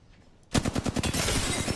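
After a brief quiet moment, rapid automatic gunfire erupts in a battle-royale video game, a dense, loud run of shots that blurs into continuous fire.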